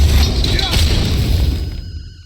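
Flashbang grenades go off in the video game Metal Gear Solid V: The Phantom Pain, a loud, dense burst of booming blasts and crackling noise that holds strong and then trails off near the end.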